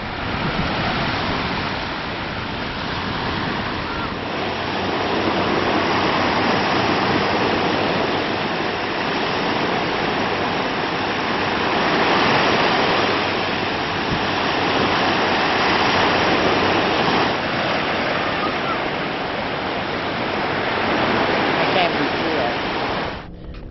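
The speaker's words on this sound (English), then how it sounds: "listening to the waves crashing there and everything" Waves crash steadily on a Lake Michigan beach at West Beach in Indiana Dunes National Park, a loud broad roar of surf that swells and eases throughout, with wind noise mixed in.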